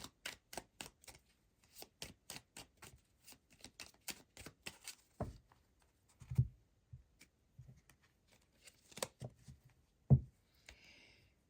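Moon magic oracle cards shuffled by hand in a quiet room, a rapid run of crisp riffling clicks followed by slower taps and soft thuds as the deck is squared and cards are set down.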